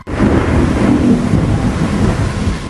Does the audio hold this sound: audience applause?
no